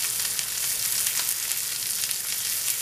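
Onions sizzling steadily in a hot pan, a dense, even crackle with no pauses, close and fairly loud throughout.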